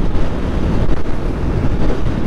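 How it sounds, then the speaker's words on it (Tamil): Strong wind buffets the microphone while riding a Honda Unicorn 160 motorcycle, producing a loud, continuous low roaring rumble that surges and wavers throughout. "காற்று சரியான காற்றுங்க, நம்மளை போட்டு ஆட்டுது வண்டியாக."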